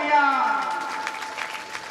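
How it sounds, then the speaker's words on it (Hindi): Applause from a devotional audience at a Shrimad Bhagavat Katha religious discourse in Hindi, a steady wash of clapping that carries on beneath a voice holding a sung tone. "जोरदार तालियां।"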